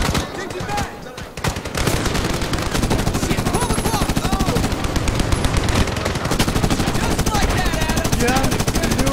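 Rapid machine-gun bursts and scattered gunshots in the 2010 Medal of Honor shooter, loud and nearly continuous, with a brief lull early on before the firefight resumes dense and sustained.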